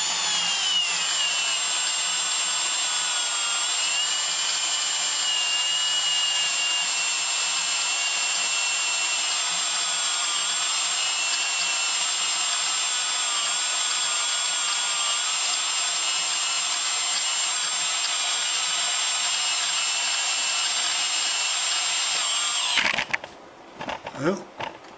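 A power drill bores out the lock on a Synergy Kahuna bike with a larger bit, a loud continuous high-pitched whine held steadily for over twenty seconds before stopping with a few clunks.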